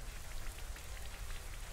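Steady rain from the Rain Dance move in Pokémon Sword and Shield patters densely and evenly like rain falling on a surface. It stays soft and continuous with no voices.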